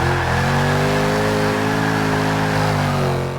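A 2016 Mercedes C63 AMG S Coupe in a racing video game, its engine roaring loud and steady at high revs with a slight rise and dip in pitch throughout, alone with no voices.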